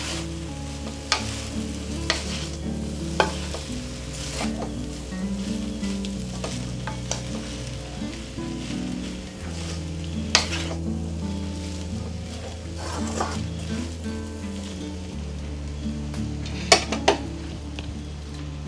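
Hakka noodles tossed and stirred in a hot pan, with a steady sizzle and frequent clinks of a utensil against the pan, close and continuous with no talk.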